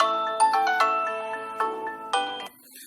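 A Tile Sport Bluetooth tracker, freshly fitted with a replacement battery, plays its chime: a bright, close, tonal ringtone of several quick rising notes that repeats in short phrases, then stops.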